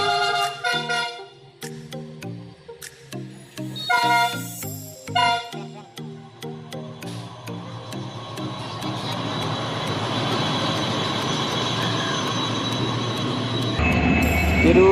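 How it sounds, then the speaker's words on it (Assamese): A train passes a level crossing on a road from Tinsukia toward Duliajan in Assam, with no one talking. Loud, stepped horn-like tones come first, then a broad, steady roar of rolling wagons builds and holds close by to the end. "আপোনালোকে চাউণ্ড শুনি পৰিছে ট্ৰেইন আহি।"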